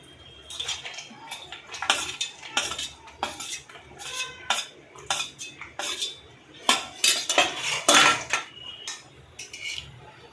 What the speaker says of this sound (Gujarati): કાજુ અને બદામને જ્યાં સુધી ગોલ્ડન બ્રાઉન ન થઈ જાય ત્યાં સુધી આપણે તેને મિક્સ કરશું સારી રીતે